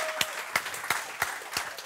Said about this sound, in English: a loud round of applause for that selfie there